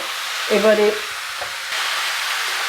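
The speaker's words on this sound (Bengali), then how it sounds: "সবজির সঙ্গে মশলাটা গায়ে মেখে খুব ভালো করে ভাজা ভাজা হবে, সেই পর্যন্ত নেড়ে আস্তে আস্তে করে যেতে হবে" Pumpkin and spices frying in a pan while being stirred, a loud, steady sizzling hiss with a short scrape of the spoon partway through.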